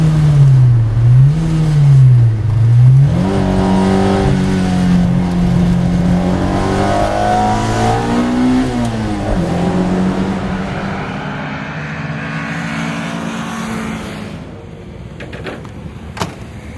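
A 1970s road sports race car's engine revs hard and swells while driving on track, loud and close with shifting pitch, tailing off toward the end.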